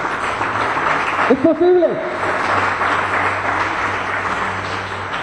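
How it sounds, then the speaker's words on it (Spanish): A church congregation applauds during a sermon, a steady rush of clapping filling the room, while a voice briefly speaks over it partway through. "Dale un aplauso al Rey."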